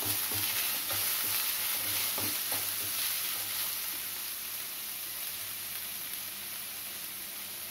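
Onions and green chillies stir-fry in a pan for a Chicken 65 recipe, a steady close sizzle with light scraping stirs and no talking.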